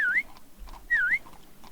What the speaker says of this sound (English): If you whistle, your nearest horse will come.